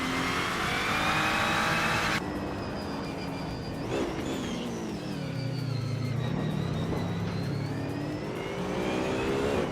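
Race cars in a racing video game, including a 2015 SCG-003C, give a continuous loud engine roar, with a sharp change in tone partway through and rising and falling revs as they accelerate and pass, no voices.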